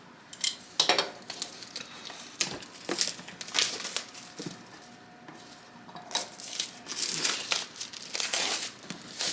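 A knife cuts open a cardboard box, heard as a string of crinkling, scraping and tearing noises that come in irregular bursts, close and fairly quiet, with no one speaking.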